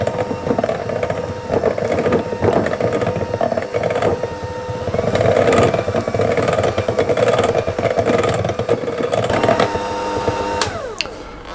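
An electric mixer beats almonds into a stiff biscuit dough for sable Breton, a steady close motor whine with an irregular churning, labouring texture that runs throughout, then winds down and stops near the end.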